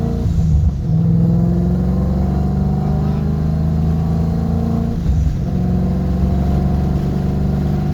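A Ford Mustang S197 with an MT82 manual gearbox accelerates hard up a hill in second gear, its loud engine drone rising in pitch with brief dips near the start and again around five seconds.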